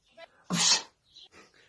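A single sharp, forceful sneeze bursts out close up, preceded by a quick inhale and followed by faint murmuring.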